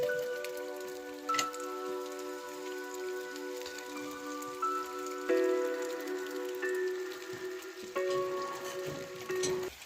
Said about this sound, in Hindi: अभी जो बारिश है वो बंद होने का नाम ही नहीं ले रही है